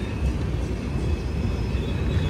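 The Howrah–Bangalore weekly superfast express, with LHB coaches, rolls past as a continuous, fairly loud rumble and roar. The noise holds steady for a couple of seconds with no voices.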